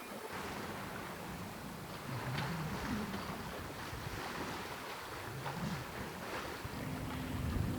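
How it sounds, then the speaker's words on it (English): Steady wind and waves wash around a sailboat making good speed toward Viti Levu, Fiji, in about 12 knots of breeze, with continuous broadband rush, occasional swells of water and gusts buffeting the microphone. "the wind has picked up"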